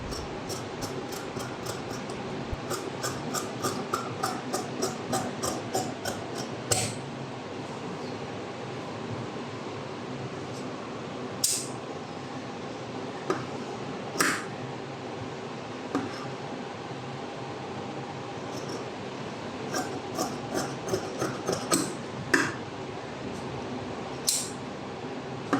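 Scissors cutting blouse cloth for a lined blouse, a series of crisp snipping clicks in quick bursts early on, then spaced single snips over a quiet room background.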